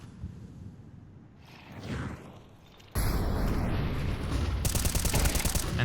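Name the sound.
gunfire in Counter-Strike 2 video game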